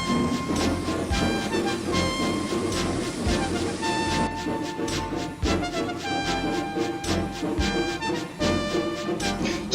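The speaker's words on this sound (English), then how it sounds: "The two set off on their very slow train." Slow museum railway train running along rails by the sea, a dense, continuous rumble with rhythmic clanks and rail clatter, loud and close, with music-like tones layered over it.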